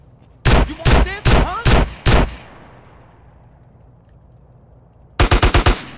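Five loud, evenly spaced gunshots ring out with a decaying echo in GTA San Andreas Definitive Edition, then after a pause a quick tight burst of several more shots.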